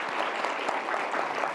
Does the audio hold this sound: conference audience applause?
yes